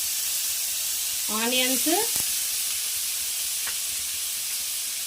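Mustard seeds and soaked chana dal fry in hot oil for a vegetable ponganal, giving a steady close hiss and sizzle throughout, while someone speaks briefly over it.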